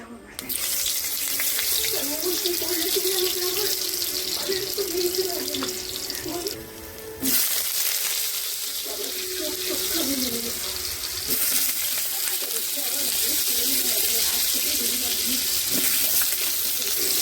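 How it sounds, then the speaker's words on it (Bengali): Potatoes dropped one by one into hot oil for a chicken bhuna khichuri, giving a steady, loud, hissing sizzle that runs nearly throughout with a brief dip midway; a voice speaks over it. "এখানে দেখো তেল দিয়ে দিয়েছি, আর আলুগুলো একে একে দিয়ে দেবো।"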